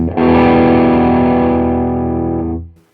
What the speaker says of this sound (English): with the gain up, it starts to sound a bit more like a clon